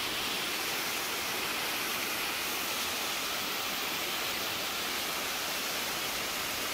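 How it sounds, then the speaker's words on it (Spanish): Steady, dense roar of a waterfall, the fifth in a chain of seven cascades, a continuous broadband rush with no breaks and no voices. "Cascada número 5."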